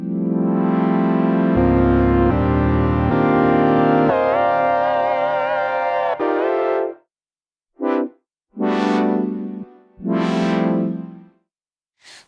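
A Nord Wave 2 synthesizer sounds a sustained bright chord that shifts as the mod wheel sweeps the reverb, followed by three short stabs with decaying reverb tails, loud and clear with no talking.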